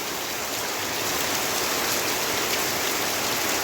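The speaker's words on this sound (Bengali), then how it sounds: "এত জোর বৃষ্টি আরম্ভ হয়েছে কখন থামবে কি জানি" Heavy rain pours down steadily in a dense, even roar that stays loud and unbroken from start to finish, with no voices.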